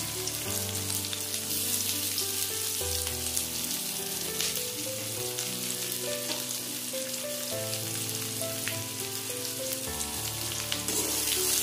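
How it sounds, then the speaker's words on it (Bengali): Chopped onions, four large ones, sizzle and crackle steadily in hot oil with tempering spices for a mutton curry, a dense continuous frying hiss with soft background music tones throughout. "দিয়ে দিচ্ছি পেঁয়াজ কুচি, 4টে বড় পেঁয়াজ কুচি করে বসিয়ে নেব।"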